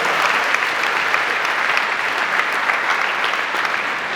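A room full of people at a community advisory meeting applauds a city mayor, a steady, loud wash of clapping that fills the whole short stretch without a break.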